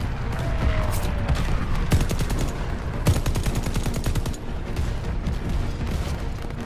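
Dense, loud gunfire from a World War II battle in Call of Duty: Vanguard, with rapid automatic bursts and sharp single shots rattling continuously over a constant rumbling battlefield background.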